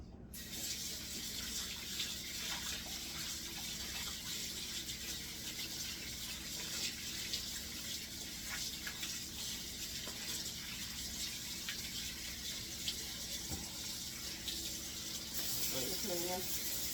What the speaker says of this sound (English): Put it in here. We're going to wash it off.